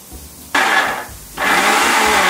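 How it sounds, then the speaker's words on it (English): A mixer grinder blends falafel mixture in two loud bursts, the motor whining in a short first run, a brief pause, then a longer sustained run, with no talk. "For that to happen, you need to run it through a mixie."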